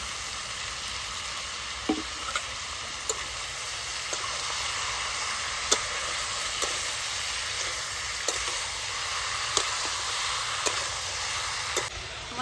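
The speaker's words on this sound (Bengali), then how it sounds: "মশলার সঙ্গে আমি ভালো করে মাংসগুলিকে কষিয়ে নিয়েছি।" Duck meat frying with spices, onion, garlic and green chilli in a pan, giving a steady close sizzle with occasional stirring clinks and scrapes, no talking.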